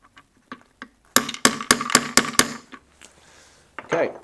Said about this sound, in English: Just give that a little mark with the hammer.